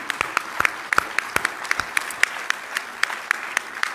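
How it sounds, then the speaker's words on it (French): Scattered applause from a small group at an Alsatian football awards ceremony, with sharp, distinct claps spaced irregularly through the whole stretch and no voices. "Je vous propose de les applaudir très fort parce qu'ils le méritent."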